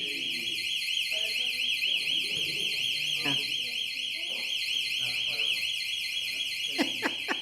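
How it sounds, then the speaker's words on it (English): A building alarm blares during a municipal board meeting, a loud continuous warbling electronic tone that holds steady throughout, with people talking underneath it. "The building alarm."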